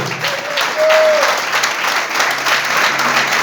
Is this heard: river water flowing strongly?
no